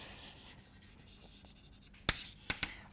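Chalk or pen strokes during a maths lecture on algebraic geometry: faint scratchy writing in a quiet room, ending in three sharp taps or strokes spaced close together, with no talking.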